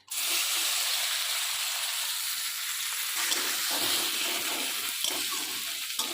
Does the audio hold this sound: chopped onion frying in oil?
yes